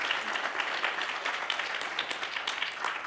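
Steady applause from a seated audience at a panel discussion on technology, democracy and the right to repair, moderately faint, sustained clapping with no voices on top.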